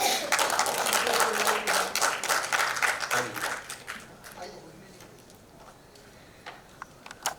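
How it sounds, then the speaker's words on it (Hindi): Crowd applause at the Bharat Ratna Dr. APJ Abdul Kalam Awards ceremony, loud steady clapping for about four seconds that thins out and fades, leaving a few scattered claps at the end while someone talks over the quieter part. "ऐसे मौके पर तालियां तो बंद नहीं होनी चाहिए।"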